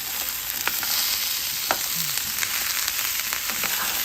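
Potatoes sizzling and frying in a pot for a vegan green chile stew, a steady close crackle with scattered pops and a brief stirring scrape.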